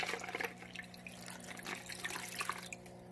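Water is poured steadily into an aquarium filter until it spills from the two spill wells, a continuous close splashing and trickling under a low motor hum.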